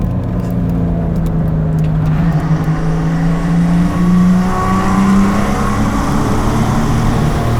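A 2JZ-swapped Ford Mustang GT revving inside a tunnel, a loud, sustained engine note that climbs and echoes off the walls, with rising harmonic tones and no talk.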